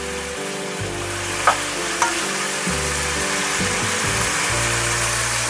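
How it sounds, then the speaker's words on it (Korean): Braised lotus root simmers and reduces in a pan, giving a continuous close sizzling bubble with a low steady hum beneath and a couple of sharp utensil clicks. "너무 맛있게 졸여지고 있습니다."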